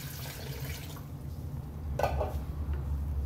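Water runs and splashes into a pot as a poaching liquid for pears in red wine is started, a steady low rush with a brighter splashing burst partway through, close and alone without talk.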